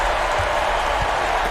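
Basketball arena crowd cheering and applauding after a long-range three-pointer, a dense, steady roar of clapping and voices that fills the whole stretch at high level.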